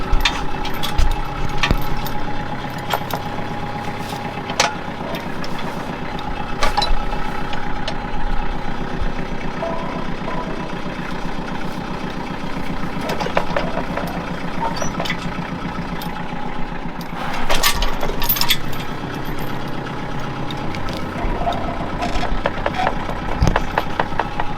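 A tractor idles and creeps in reverse toward a freshly cut red oak log on a homestead, its steady mid-pitched engine drone broken by scattered wooden knocks and clanks, close and fairly loud.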